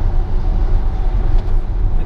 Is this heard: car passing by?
yes